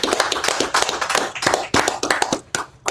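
Close, loud hand clapping in a gathering, a few people clapping in quick uneven bursts with short gaps between, with no voices over it.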